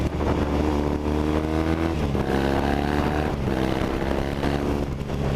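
A Triumph Thruxton 900 café racer with a 360-degree crank and British Customs slip-on exhaust pulls hard under acceleration, its engine note loud and close, rising steadily with strong continuous harmonics and no talk over it.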